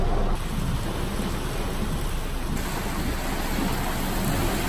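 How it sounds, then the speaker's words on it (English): Dense hail and rain pelt the street during a storm, a steady close hiss and patter of hard impacts with a low rumbling undertone, continuous and fairly loud throughout. "but on the street we have hail"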